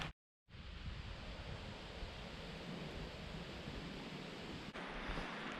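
Strong wind roars steadily against the microphone in a dense broadband rush after a brief silent gap at the start, with no voices, on a cold, exposed spot on the Appalachian Trail.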